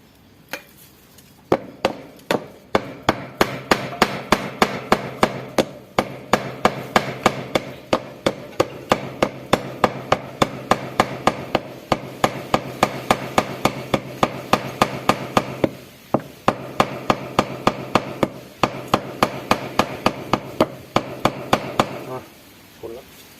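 A toilet pipe fitting is hammered into place at a septic tank. Dozens of loud, sharp, close blows fall in a steady rhythm for about twenty seconds, with brief pauses between runs.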